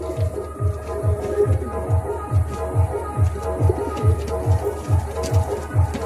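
Andhra and Ablook Dobuz pigeons coo in a steady repeating rhythm, low throaty calls pulsing about twice a second, close and clear.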